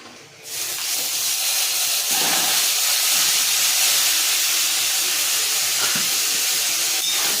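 Taro leaves hit a hot pan in a Bengali home kitchen, setting off a sudden loud, broad sizzling hiss that jumps up after a brief quiet start and holds steady.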